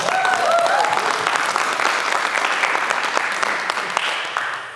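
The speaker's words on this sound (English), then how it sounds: "Give yourself a round of applause." An audience at a Columbus multicultural community speaker panel applauds steadily, a dense wash of many hands clapping throughout, close and loud, fading slightly at the end.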